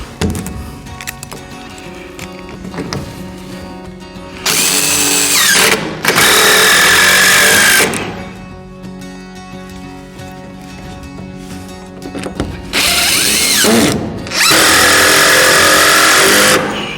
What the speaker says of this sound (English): So let's pop some screws in it. This time I'll use some long ones.